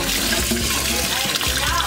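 Mung beans are rinsed in water, giving a loud, close sloshing and swirling of liquid with a few soft knocks, continuous for about two seconds.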